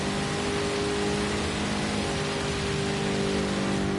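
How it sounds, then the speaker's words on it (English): Heavy rain pours at Spa in a racing video game, a dense steady hiss of downpour with a car engine droning faintly beneath it, constant and loud throughout. "Oh, that's heavy rain. That's heavy rain."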